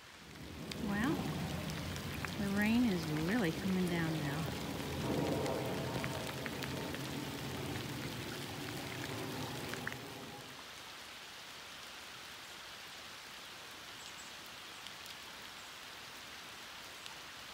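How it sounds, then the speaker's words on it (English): Rain falling on lake water near Bellingham, Washington, a soft continuous patter of drips on the surface, at first under a voice and some tonal sounds, then heard alone for the second half. "See the drips on the water?"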